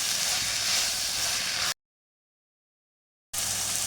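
Three tomatoes sizzle and hiss in a hot pan while being sautéed for a Palakkad-style chicken curry, a steady frying noise broken by a short gap of silence before resuming.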